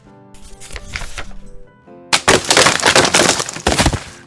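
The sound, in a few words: snap, crackle and very loud pop sound effect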